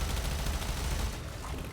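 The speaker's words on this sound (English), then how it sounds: "These damn level 200 Corpus with their shotguns that do not mess around." Shotgun fire from high-level Corpus enemies in Warframe, dense overlapping blasts in a loud continuous barrage of in-game gunfire lasting the whole moment.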